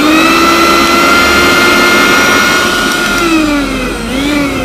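A repaired Maharaja Whiteline mixer grinder motor whirs loudly and steadily up close, a high humming whine that dips slightly in pitch toward the end.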